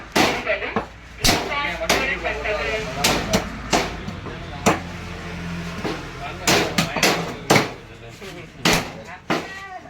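A butcher hacks through a whole mutton carcass with a heavy knife, sending sharp, loud chops at an irregular pace, some in quick pairs, over a background of people talking.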